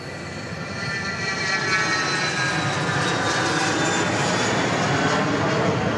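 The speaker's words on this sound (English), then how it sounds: "Interesting to see the different altitudes these planes lift off at." Jet airliners take off at Dallas Love Field, a loud, continuous engine roar that builds over the first second or two and then holds steady, heard from a parking garage with no talk.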